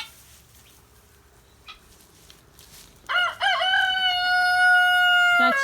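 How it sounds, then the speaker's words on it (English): Backyard hens cluck softly at first, then a rooster lets out a loud, long crow close by that carries to the end. "here are my chickie poos over here"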